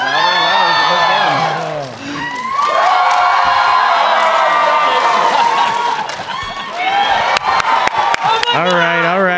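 Crowd at a Power Morphicon 2018 panel cheering and shouting in loud waves, swelling after a brief dip, with voices and whoops throughout and a few sharp claps near the end.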